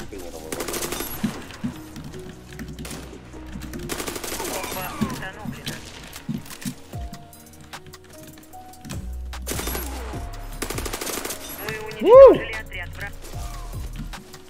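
Rapid automatic submachine gun fire in bursts from a video game, with a voice talking over and between the volleys.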